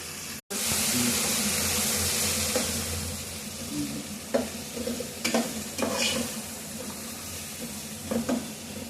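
Chili powder and coriander powder tipped into a hot frying pan, with a steady sizzle of frying oil and intermittent stirring clinks and scrapes close by, no talking.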